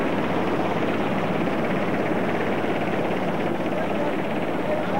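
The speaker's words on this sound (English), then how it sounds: "British Airways helicopter at Dyce near Aberdeen can be converted from cargo and passenger carrying to life-saving in minutes" British Airways search and rescue helicopter at Dyce near Aberdeen, a steady, loud, continuous rotor and engine drone with no breaks, with a voice talking throughout.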